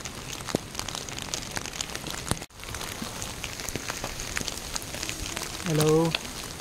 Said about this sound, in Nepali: पुरै असिना परिरहेको छ यहाँ चाहिँ।